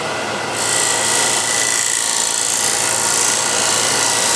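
A steel cabinet scraper with a freshly raised sharp burr drawn lightly across soft timber, giving a steady, close, airy rasping hiss that runs continuously with no pauses.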